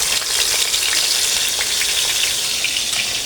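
Pieces of fish sizzle steadily in hot oil while being fried desi style, a continuous close crackling hiss with small pops, heard alone without talk.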